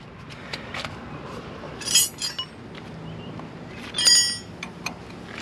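Wrench work on the brake caliper bolts of a 2004 Suzuki XL-7 during a brake pad replacement gives two brief, sharp metallic clinks with a few lighter ticks between them, close by against quiet background noise.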